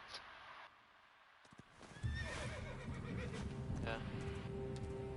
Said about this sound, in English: To call your horse for assistance.